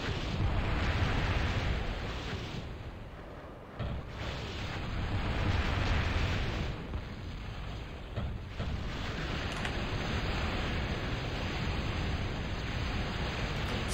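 Lasers fire from a long-range Doomsday Machine in a real-time strategy battle, a continuous dense rumbling roar of rapid bursts and blasts running throughout, loud and steady with a brief dip partway.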